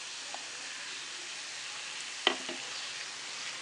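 Mutton kheema sizzles softly in a pan as tomato puree and coriander go in, a quiet steady hiss broken by one light clink of a utensil.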